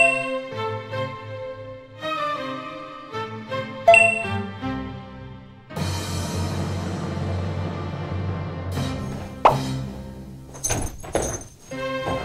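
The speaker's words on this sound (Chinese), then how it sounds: "他两个那个铃声是真的响" Bells and chimes ring out during a variety show game, starting with bright repeated dings and then swelling into a loud, dense ringing with music and crowd noise mixed in.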